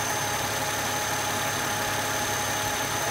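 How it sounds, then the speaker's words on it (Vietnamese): A Mercedes C240 with a 2.5-litre engine idles steadily, a continuous even hum with a faint whine, close and unchanging throughout with no voices. "hiện tại máy với em đang nổ nhé quý vị các bạn nhé"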